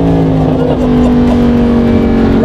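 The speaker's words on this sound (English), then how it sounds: "The pops are, like, insane in this car." A Lamborghini engine drones loud and close under acceleration, a steady strained tone running throughout, while people talk over it inside the car.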